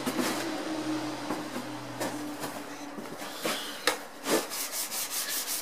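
Rhythmic rubbing strokes of a steel card scraper being polished on an abrasive surface to remove factory scratches, repeated scraping passes at close range with a few sharper scuffs and no talking.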